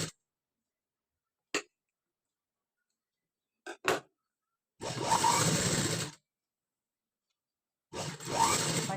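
A sewing machine runs double-stitch seams on a blouse in two short bursts of loud mechanical whirring, with scattered faint clicks in the quiet gaps before them.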